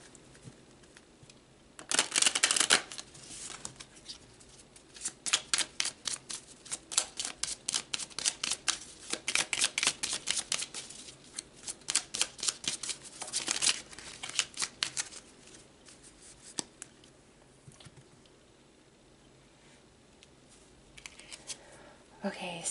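Tarot cards being shuffled by hand, rapid riffling bursts and flicking slaps repeated in clusters, close and crisp, with quiet gaps between rounds.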